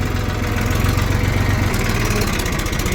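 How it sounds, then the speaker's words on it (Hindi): A Massey tractor pulling a tiller in a farm field at night runs at a steady, close, loud low rumble with a continuous throbbing beat and no speech over it. "ये चल रहा अपना मैसी टीलर के साथ।"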